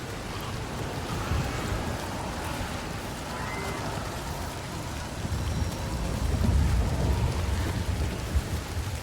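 Rain pours in a video game world, a steady dense hiss with low rumbling beneath that swells toward the end, loud and continuous with no speech.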